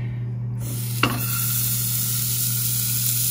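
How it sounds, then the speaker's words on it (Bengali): An uncooked beef burger patty sizzles in a dry pan with no oil, a steady close hiss with a brief tap near the start, no voices. "আমরা একটু প্যাটিটা যেহেতু আনকুকড, আমরা একটু কুক করে নিচ্ছি। তেল দেওয়া হবে না।"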